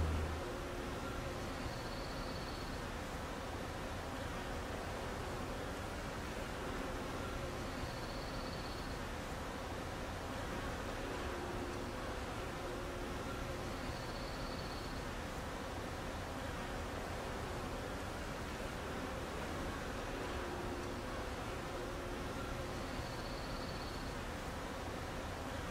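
Honeybees at the hive give a steady, dense buzzing hum, continuous and moderately near, with faint recurring high whines every few seconds and no voices.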